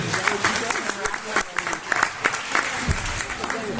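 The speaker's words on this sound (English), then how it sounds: "How about a round of applause for Mark?" An audience gives a round of applause at a youth CYO basketball tournament awards ceremony, continuous clapping in a hall with some talk and crowd murmur underneath.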